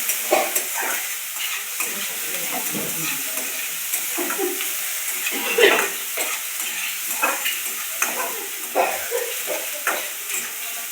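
Onion frying in oil in a pan for a quick mixed vegetable dish, a continuous bright sizzle with repeated scraping stirs throughout, close and steady with no voices.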